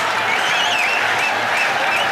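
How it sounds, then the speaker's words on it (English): A cricket stadium crowd applauds and cheers during a one-day chase as a boundary brings up a fifty partnership, a dense, continuous wash of clapping and crowd roar with no break. "Buzz around the crowd."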